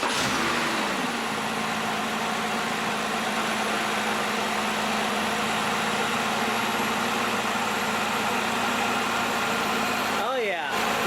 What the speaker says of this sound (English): So now we can hear the fruits of our labor, turning the engine on, and it should run perfectly.